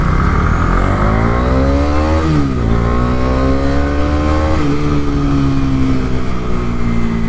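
A Bajaj Dominar 250 motorcycle engine, loud and close, revving and pulling through gears, its pitch climbing, dropping at a shift and rising again in a steady drone.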